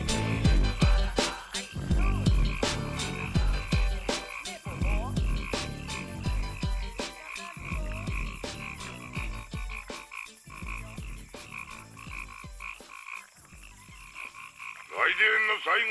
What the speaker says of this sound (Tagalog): naninilig na palaka